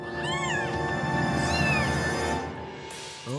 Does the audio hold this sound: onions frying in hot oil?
no